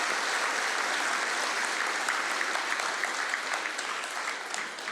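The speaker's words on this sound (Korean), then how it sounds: "한번 뜨거운 박수로 평가하겠습니다." Steady, warm applause from a church congregation during a Sunday worship service following a solo song with accompaniment, dense and sustained across the whole stretch.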